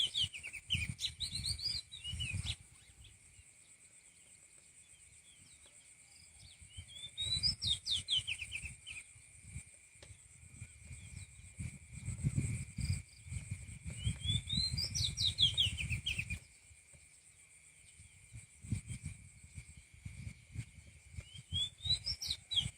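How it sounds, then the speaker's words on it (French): Birds chirp in spaced clusters as they settle to roost at dusk in Isan, Thailand, over a steady high-pitched drone with intermittent low rumbling, all fairly faint. "Il y a plein d'oiseaux qui viennent se coucher."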